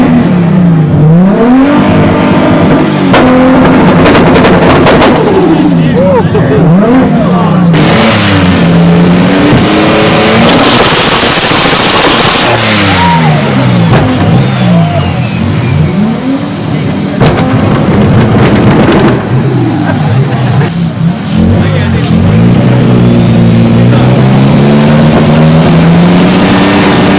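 A turbocharged car engine revs hard at close range at an automotive open house, with repeated rising and falling revs, sharp pops and a hissing turbo blow-off valve release, loud throughout.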